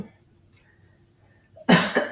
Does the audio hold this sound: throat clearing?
yes